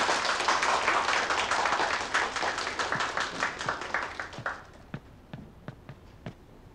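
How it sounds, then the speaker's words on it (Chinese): An audience at a school lecture applauds to welcome the guest speaker, a Royal Caribbean ship's chief officer. Dense clapping fades after a few seconds into scattered single claps. "大家鼓掌欢迎"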